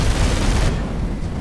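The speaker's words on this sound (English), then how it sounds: "Is that the turret firing?" Turret gunfire in the Space Hulk: Deathwing video game, a loud dense burst of rapid shots that fills the first half, then trails off into a duller rumbling barrage.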